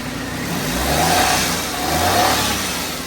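A 2011 Maruti Suzuki Alto LXI petrol engine is revved twice in quick succession, each rise swelling and falling back toward idle, heard up close.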